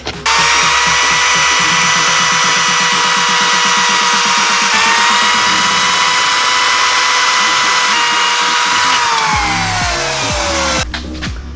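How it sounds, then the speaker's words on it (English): A power drill whines loudly and continuously as it bores through a wooden dowel held in a vise, pitch shifting slightly under load before the motor stops near the end. "drill the 2 holes that you just made through the dowel"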